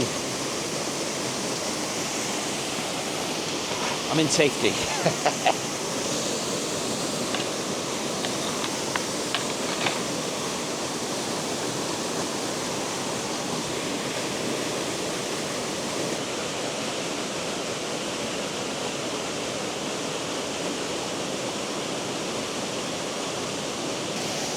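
A steady, full rush of water falling into a plunge pool at Catrigg Force waterfall in Yorkshire roars continuously, with a few brief clicks and a short spoken phrase early on.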